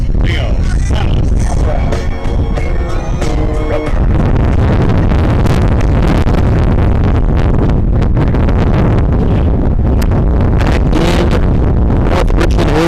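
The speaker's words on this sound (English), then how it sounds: "an extremely windy Tuesday night" Strong wind buffets the microphone in heavy, rumbling gusts throughout a night high school baseball game in North Richland Hills, with faint tonal sounds early on that soon give way to constant roaring turbulence.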